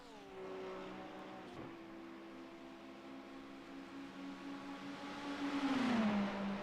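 Sim racing cars in a game race at Monza, engines droning steadily with rising and falling pitch as several cars run close together, growing louder toward the end as they pass nearby.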